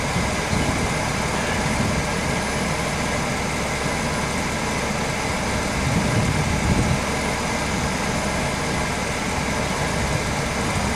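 A GMC Savana van's cold engine idles steadily and continuously nearby, a low, even rumble with no revving.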